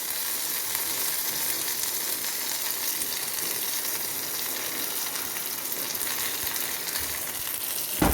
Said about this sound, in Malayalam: ഇനി നമുക്ക് കടുക് പൊട്ടി ഉള്ളി അരിഞ്ഞതിടാം.